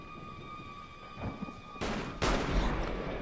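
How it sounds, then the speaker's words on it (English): Gunshots in a TV horror episode burst out as two loud, broadband blasts a moment apart, cutting through a quiet background with a faint steady electronic whine. "Oh, it's like gunshots."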